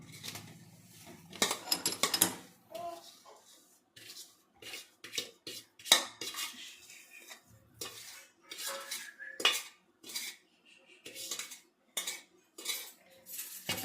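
Gundar pak mixture is scooped and scraped from a pan into a tray with a metal spoon, making repeated clinks and scrapes in an irregular rhythm. The sound is close and fairly quiet, with no voices.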